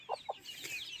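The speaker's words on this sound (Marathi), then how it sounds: "पूर्ण कोंबड्या बघा कशा पळत आतमध्ये येतात" Free-range chickens rush indoors, giving two short, close clucks early on over a busy background of softer, higher chirps and rustling.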